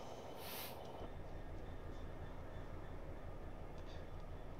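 A Freightliner freight train hauling JNA wagons passes in a train simulator on the East Coast Main Line: a continuous low rumble and rolling wheel noise, fairly quiet and steady, with a brief high squeal near the start.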